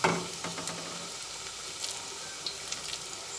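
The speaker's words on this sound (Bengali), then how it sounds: "পাট পাতার পকোড়াগুলো দিয়ে ভেজে নিচ্ছি" Jute leaf pakoras frying in hot oil make a faint, steady sizzle with small crackles and pops scattered throughout, heard close up with no talking.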